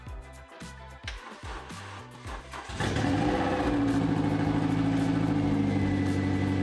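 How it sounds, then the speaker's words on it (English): A Renault Clio 182 being revived after sitting abandoned cranks in several short chugging bursts, then catches and settles into a loud, steady idle that runs to the end. "the car actually started and it looks like everything is working okay."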